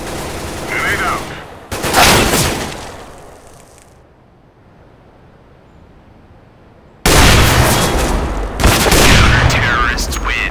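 In a Counter-Strike match, loud bursts of gunfire and explosive blasts come in heavy clusters, separated by a quieter stretch. Some bursts could include a grenade blast. A voice is faintly present.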